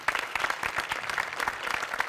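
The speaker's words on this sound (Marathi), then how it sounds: "जोरदार टाळ्या" Audience at a Marathi comedy show claps loudly in a dense, sustained burst of applause, close and continuous with no talking over it.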